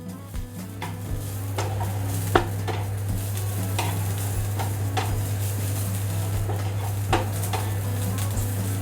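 Ginger and garlic frying in a pan for a Maharashtrian vegetable dish, with steady close sizzle, repeated scraping stirs and clinks of a spoon against the pan.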